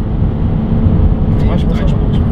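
A BMW M2 takes a curve at about 100 km/h, its steady engine and road roar droning loud inside the cabin while people talk over it.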